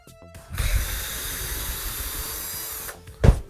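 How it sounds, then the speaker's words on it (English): An assembly drill with a 3/8 inch nut driver whirs steadily, driving into an unthreaded hole in a churro part to thread it. The continuous, close motor sound lasts a few seconds and ends with a brief mechanical clatter. "take an assembly drill, take a 3/8 inch nut driver, go into an unthreaded hole"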